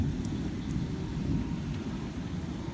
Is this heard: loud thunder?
yes